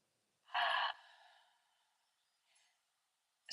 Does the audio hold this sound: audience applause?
no